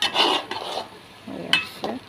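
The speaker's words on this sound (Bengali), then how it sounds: "আমার পোলাওতে একটু ঢাকনা দিয়ে দিলাম" Metal lid set onto a pot of pulao on the stove, giving a few scraping, clanking knocks in short bursts with quiet gaps between them.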